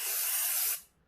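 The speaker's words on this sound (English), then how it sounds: "Just want to spray it and intervene after the spray a bit more." A spray can releases one steady close hiss of spray for most of a second, then cuts off sharply and fades into quiet.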